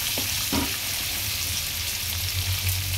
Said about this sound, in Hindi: फिर इसमें सबसे पहले हरी मिर्च और लहसुन का पेस्ट डालूंगी। हो गया, अब इसमें डाल दे देगी और इसको 5-7 मिनट तक फ्राई करूंगी।